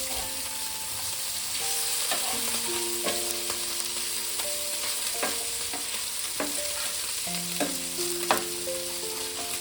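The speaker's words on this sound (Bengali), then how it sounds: "আর একটু কড়া করে মাছগুলো ভেজে আমি নামিয়ে নেব।" Chela fish fry in oil in a pan, a soft, steady sizzle broken by occasional scrapes and clinks as the pieces are stirred and turned, with no voices.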